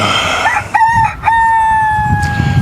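A rooster crows loudly and close by on a farm with flooded garden and chicken chores, one drawn-out call rising in stutters then holding a long clear note over low background noise.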